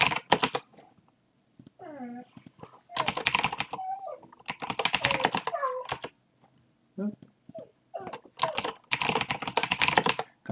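Bursts of rapid clicking on a computer keyboard come in several separate runs with pauses between, close and clear, broken up by a person speaking.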